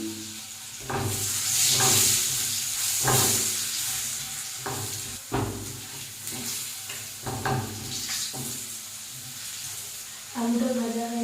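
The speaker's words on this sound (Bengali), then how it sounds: "এবার আমি মাছ ভাজার তেলে আলুটাকে ভেজে নেব।" Potatoes fry in leftover fish-frying oil in a pan, giving a steady sizzle with repeated stirring scrapes and taps, and a voice speaks briefly near the end.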